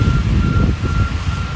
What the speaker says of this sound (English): Oh, it's reversing into that white car.